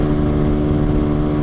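A motorcycle engine runs at full power during a night ride, a loud, steady, droning roar with constant rumble and wind rush and no pauses or talking.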